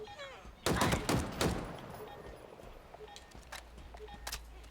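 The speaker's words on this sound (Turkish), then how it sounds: "Oo bu silah fena vuruyor dostlar." Weapon fire in the shooter game Halo Infinite, a loud burst of several rapid shots followed by quieter scattered shots further off, with faint game sounds underneath.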